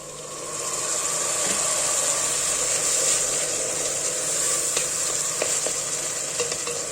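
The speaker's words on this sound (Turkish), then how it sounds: "Salçayı da kavuruyorum." Tomato paste and canned tomatoes sauté in a pan with a strong, steady sizzling hiss, broken by faint scraping clicks of stirring.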